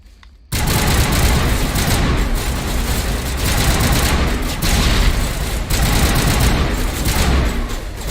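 Sustained heavy gunfire in the sci-fi shooter Mass Effect Legendary Edition, a dense rattling fusillade bursting in loudly after a brief quiet start and continuing nonstop, with shots layered close together.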